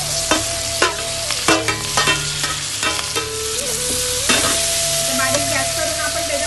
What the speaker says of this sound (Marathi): त्याच्यामध्ये आपण मशरूम टाकूया आणि सगळं भाज्या भाजून घेतल्यात ना त्या टाकू